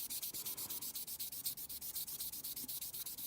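Rapid, steady back-and-forth rasping of a sanding sponge on a hard plastic 1:72 scale Airfix Vampire model, close up, about seven strokes per second with no talking.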